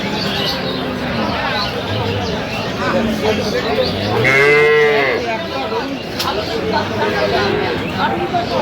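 Cows and calves at a busy cattle market in Sylhet, dairy cows among them, with a drawn-out moo rising near the middle over steady crowd chatter and nearby voices talking.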